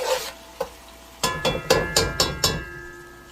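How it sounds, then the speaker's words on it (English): Fresh sofrito fries in a pan for Spanish rice with pigeon peas, a spoon scraping through it in about six sharp, sizzling strokes, the last ones quick and evenly spaced, close and fairly loud with no talking. "Fry that up a little."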